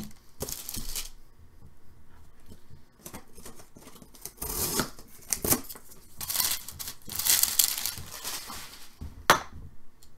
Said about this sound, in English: Cut this lid off.